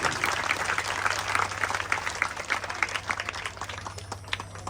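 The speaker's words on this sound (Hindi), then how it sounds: "ताली बजाते रहे हैं, उसमें कंजूसी ना करें" Devotees clapping during a puja at the Baba Manokamna Nath Mahadev siddhi peeth, a steady rhythmic patter of many hands beating together at a moderate distance over a low constant hum.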